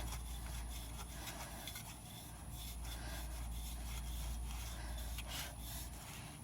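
An oil filter being screwed on by hand during an engine oil change makes a soft, continuous rubbing and scraping of metal threads and gasket, steady and faint against a low background hum.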